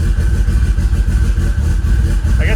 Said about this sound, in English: Idling really nice. I feel like it's a much crisper idle.